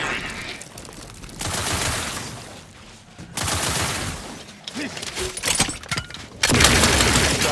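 Bursts of gunfire in The Outer Worlds 2 video game, rapid volleys alternating with quieter gaps, loud and dense near the end, with game sound effects mixed in.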